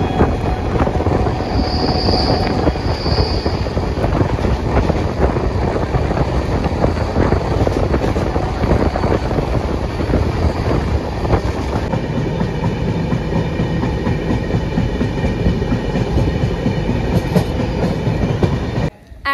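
A passenger express train runs on rails during a long-distance journey: a loud, continuous rumble with rattling carriages and rhythmic clatter, steady throughout and heard from on board, with no talk.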